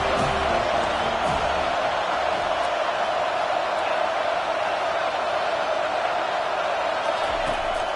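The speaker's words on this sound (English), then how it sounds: "The roar of the crowd trying to fuel this defense to keep them pinned in their own end" A stadium crowd at a college football game keeps up a steady, loud roar for the full stretch, a dense, unbroken wash of massed voices with no single standout cheer.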